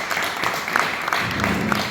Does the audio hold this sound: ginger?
no